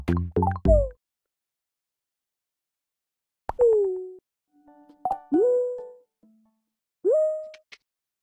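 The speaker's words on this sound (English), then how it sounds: "Tap an egg on the side of the bowl until it cracks." Cartoon egg cracking against a bowl in the Sago Mini School baking game: a quick cluster of bouncy plops at the start, then several separate springy, pitch-bending pops spaced apart with silence between.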